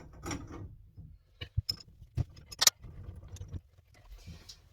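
A socket wrench on a three-handle shower valve stem, sparse quiet ratcheting clicks and metallic taps scattered across several seconds, close and faint.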